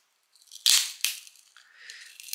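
A curved tempered glass screen protector on a Moto Edge 40 Neo phone cracks as it is peeled off, giving two sharp crackling snaps followed by softer crinkling, close and alone.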